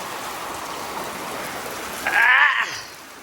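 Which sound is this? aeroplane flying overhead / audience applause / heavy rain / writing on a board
heavy rain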